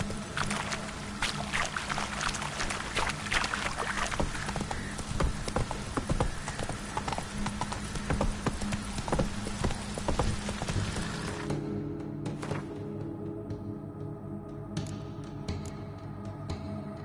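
Roach, the horse in The Witcher 3, gallops with quick, rhythmic hoofbeats and a steady rushing background that drops off sharply near the end.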